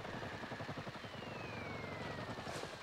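A helicopter in a military survival shooter game whirs steadily with a rhythmic rotor chop, a thin whine sliding slowly downward throughout; it stays faint and continuous with no voices.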